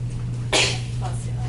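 A single quick sneeze bursts out in a lecture room during an anatomy class, sharp and short against a steady hum of room noise.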